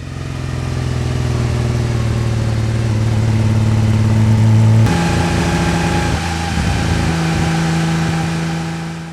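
Porsche 911-T engine while driving, a steady mid-pitched hum with strong low harmonics that shifts pitch abruptly about halfway through as the revs change, continuous and fairly close.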